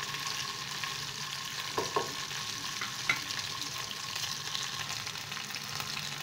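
Ginger paste sautéing with softened tomatoes in a pan for a tengra fish curry, a steady soft sizzle with a few faint stirring scrapes, close and fairly quiet.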